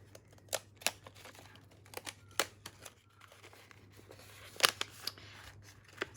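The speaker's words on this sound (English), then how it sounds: "I always hold it up to the light and just trim the very top." Scissors snip the tops off paper washi strips in a quiet room, giving a scattered series of sharp, close clicks at irregular intervals with no talking.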